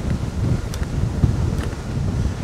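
Strong wind buffets the microphone while cycling along an old railway-line bike path past wetlands, a steady loud low rumble with gusty surges throughout.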